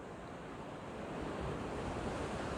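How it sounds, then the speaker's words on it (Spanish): Sea waves washing onto the beach at La Isla in Colunga, Asturias, heard from a viewpoint above as a steady, soft roar of surf with a little wind and no voices. "Un sonido muy relajante es el que nos llega de las olas hasta donde nos encontramos."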